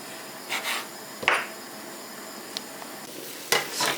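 Dried zucchini and eggplant being stir-fried in a pan, with a few short sizzling scrapes and stirring bursts separated by quieter gaps, close and moderate.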